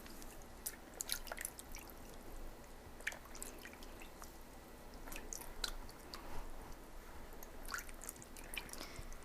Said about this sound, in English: So, I'm going to rinse this off now.